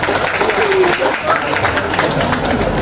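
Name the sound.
applause for Alfa Midi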